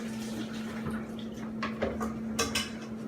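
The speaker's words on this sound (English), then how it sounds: "Wash my hands quick." Hands being washed under running water at a kitchen sink while making a mincemeat ring, with splashing, dish and cutlery clatter and a steady hum, without talk.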